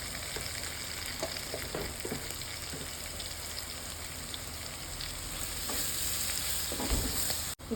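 Vegetables with turmeric fry in a pan for upma, a continuous hiss and crackle of sizzling with occasional stirring scrapes, close and steady throughout.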